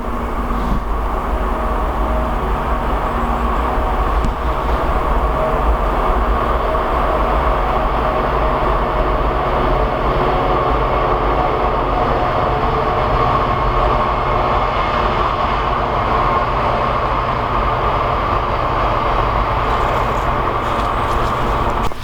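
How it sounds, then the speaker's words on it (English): A steady, loud rumble of a train passing, continuous rolling and clattering noise that holds evenly throughout. "There's a train."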